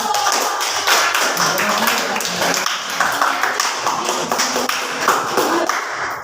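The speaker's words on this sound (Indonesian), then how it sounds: "silakan beri tepuk tangan dulu" An audience gives a round of applause during a classroom session, with many hands clapping in an uneven, moderately loud patter throughout.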